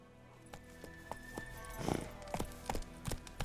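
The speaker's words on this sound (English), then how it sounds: "Luckily, Geralt can always count on his horse, Roach, to help him on his travels." Horse hooves clip-clop in a steady walking rhythm in The Witcher 3: Wild Hunt, close and moderately loud over a soft ambient game background.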